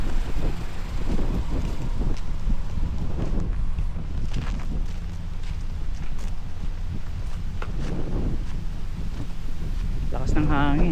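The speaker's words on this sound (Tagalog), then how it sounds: "Lakas ng hangin." Strong wind buffeting a microphone outdoors beside Montfort Park in New Zealand, a loud continuous low rumble and roar filling the whole stretch, with faint traffic-like sounds underneath.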